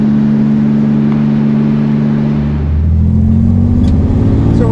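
A Chevrolet Corvair with a new cam, heads and exhaust after flood damage runs loud and close, a steady idle that drops briefly before rising again into a stronger, rougher engine note.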